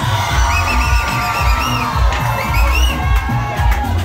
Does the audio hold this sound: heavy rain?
no